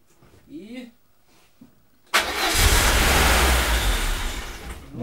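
A car engine is cranked and catches at about two seconds, then runs loudly and roughly for the rest of the clip, after quiet speech at the start.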